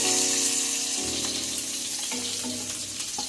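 Capsicum sizzling and frying in a pan for Chinese fried rice, a steady close hiss with light crackles and faint clinks throughout.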